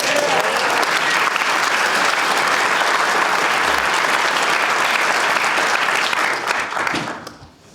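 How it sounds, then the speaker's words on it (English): Sustained, dense applause from a standing-room-only crowd at a political rally in San Francisco, loud and steady for about seven seconds before fading away at the end. "Give them a round of applause."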